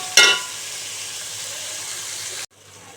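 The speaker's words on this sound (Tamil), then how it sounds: "நல்லா வதக்குவோம்." Onions sauté in a pot for mutton biryani, a steady soft hiss and sizzle after a sharp clatter at the start, then cutting out abruptly near the end, leaving quieter background.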